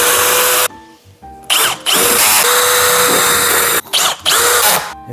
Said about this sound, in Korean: 나머지 피스길 쭉쭉 뚫어줄게요.